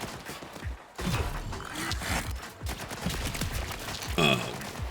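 Noisy Cricket gun shots in the video game Borderlands 4: a busy sequence of sharp blasts and thumps, uneven in rhythm, with metallic mechanical clicks and a bright ringing burst near the end.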